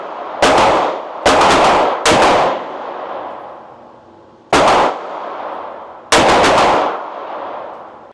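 A Smith & Wesson–style revolver fires .357 Magnum rounds: five loud, sharp shots with long ringing echo tails, three in quick succession, then two more after a pause, with no talk.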